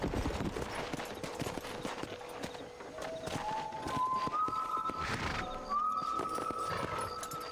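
Horse in the Red Dead Redemption video game, hooves clip-clopping steadily at moderate loudness under a game soundtrack with rising tones, no talking.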